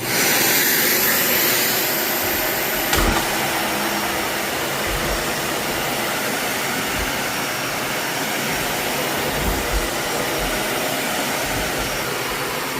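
A Dyson Ball Animal 3 upright vacuum runs on carpet with a loud, steady roaring whine close by, broken by a few low thumps from the brush moving across the floor, with no talking.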